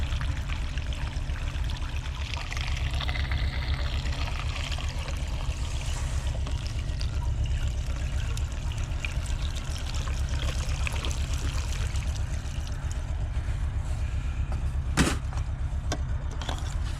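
Fuel pouring through a small funnel to prime the carburetor of a 1969 Volkswagen Beetle, a continuous close trickling and splashing flow holding steady throughout, with a brief sharp click near the end.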